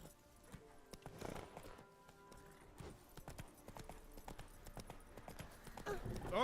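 Roach, the horse in the video game The Witcher 3, trots along with a quiet, steady clip-clop of hooves at a moderate pace, heard faintly and alone.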